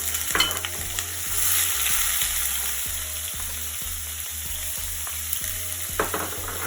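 Onion frying in hot oil in a karai after panchphoron and masala, a steady loud sizzle with scraping stirs and occasional clinks, no voices.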